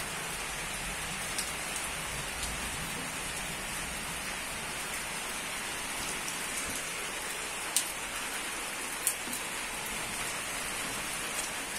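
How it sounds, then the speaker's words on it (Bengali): Heavy rain pours down steadily in a dense, even hiss, with a few sharp drips or taps standing out near the end and no voices. "দেখতেই পাচ্ছ মারাত্মকভাবে আজকে বৃষ্টি হচ্ছে"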